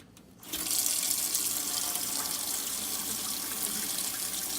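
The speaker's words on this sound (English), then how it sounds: "So we'll start with cold water" Cold water runs from a tap into a sink, rinsing a freshly tie-dyed black and white long-sleeve shirt; after a brief quiet start the stream switches on and gushes steadily, close and constant.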